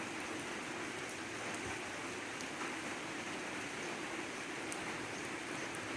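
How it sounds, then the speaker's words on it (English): Rain falls steadily on a December day, a constant soft hiss that stays even and unbroken throughout, with no voices. "a rainy day today"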